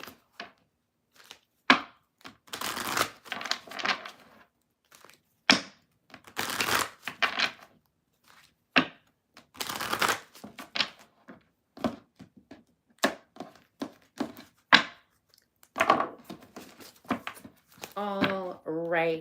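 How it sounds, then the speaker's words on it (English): A deck of tarot cards is shuffled in several bursts of riffling and flicking, each a few seconds long, spaced between stretches of one person talking close by. "We're gonna super duper shuffle."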